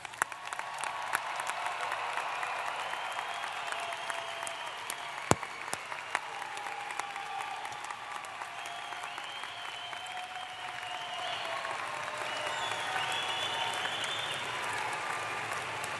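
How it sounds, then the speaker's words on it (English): A large commencement audience applauds the graduates at a spring university ceremony, a dense, steady wash of clapping that holds for the whole stretch, moderately loud and slightly distant, with no talk. "Audience, please join me once more in applauding all of our graduates."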